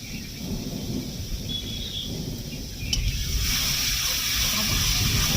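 Heavy rain pours down during a morning thunderstorm in a village, a steady broadband hiss with a low rumble underneath; the downpour swells louder about halfway through and stays intense.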